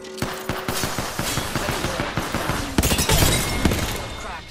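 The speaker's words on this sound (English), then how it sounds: "Opening fire." Rapid automatic gunfire from an Apex Legends firefight, with a steady stream of shots and a denser, louder burst near the end, heard with in-game voice lines.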